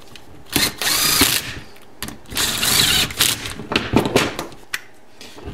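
A ratchet drives the front brake caliper bolts home on a 1973 Honda CB750 custom build, making repeated short bursts of quick mechanical clicking close up, with brief pauses between runs.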